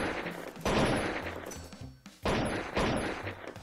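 AK rifle fire in a gangster video game, two long, loud bursts of rapid automatic shots separated by a brief pause, with no talk over them.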